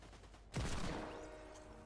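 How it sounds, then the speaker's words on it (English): A single hand cannon in Fortnite goes off with one loud, close blast and then a long decaying roar. "The cannon made out of hands."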